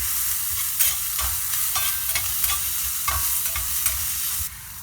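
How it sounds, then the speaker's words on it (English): Potatoes, onions and peppers frying in a pan, a loud continuous sizzle broken by rhythmic scraping stirs, close and dense before easing slightly at the end. "Let's go ahead and stir these around a little bit more."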